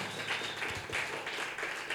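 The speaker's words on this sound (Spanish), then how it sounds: "Dale un fuerte aplauso al Señor" A church congregation applauding during a morning worship service: sustained, dense clapping that fills the whole moment at a steady level, with no one speaking over it.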